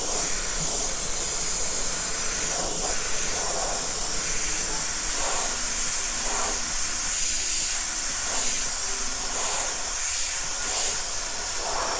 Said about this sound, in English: Spray paint is going to go here.